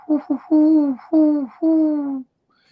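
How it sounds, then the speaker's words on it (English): An owl hoots nearby in a series of five low, breathy calls, two short ones followed by three longer drawn-out notes, loud and clear with nothing else audible. "The owl chants who by night."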